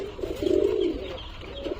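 A golden male pigeon gives a close, clear, drawn-out coo, followed by a shorter, softer coo a moment later against a quiet background.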